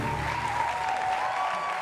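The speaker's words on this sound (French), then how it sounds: "Allez, applaudissez encore très fort pour elle," Studio audience on a live television show applauds in a steady, sustained wash of clapping, with a faint tone running beneath.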